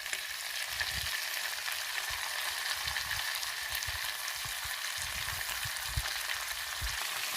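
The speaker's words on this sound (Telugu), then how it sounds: "ఇందులో అల్లం వెల్లుల్లి పేస్ట్ వేద్దాము." Ginger garlic paste sizzles and fries steadily in a hot pan, a continuous crackling hiss with occasional soft stirring scrapes, close and alone with no voices.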